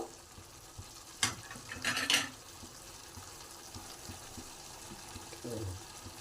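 A spoon stirs Nellore-style mutton and okra curry in a pot, with a sharp clack and a short scraping burst, then faint quiet sizzling and a soft thud near the end.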